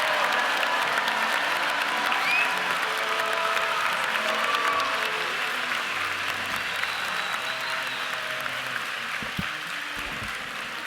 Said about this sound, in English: Please give a round of applause for our doctoral graduates